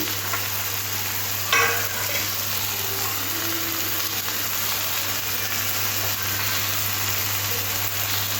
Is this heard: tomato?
yes